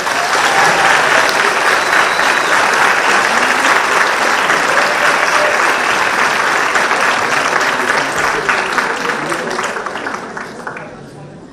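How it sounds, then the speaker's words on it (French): Sustained, dense applause from a crowd at a group cosplay contest during a Japan-themed convention, steady and loud for about ten seconds before tapering off slightly at the end. "on peut encore les applaudir"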